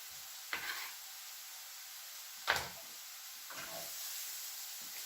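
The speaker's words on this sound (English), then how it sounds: "So onions are going to go in now." Onions sizzle in a hot pan during home pizza preparation, a steady close hiss broken by three brief clattering stirs or knocks.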